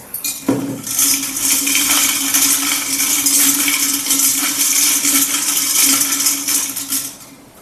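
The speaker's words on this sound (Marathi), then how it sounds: "मिक्स करा सर्व आधी कॉईन्स" Metal coins being stirred and shaken together inside a handi pot before a lucky draw, giving a steady, loud jangle of clinking metal that runs continuously for several seconds.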